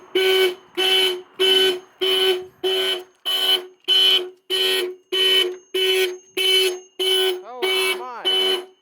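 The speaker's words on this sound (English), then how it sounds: "There is an alarm on this car." A W126 Mercedes-Benz 380SE's car alarm blares loud and close in a steady run of about a dozen evenly spaced honking blasts, switching near the end to a warbling, wavering siren tone.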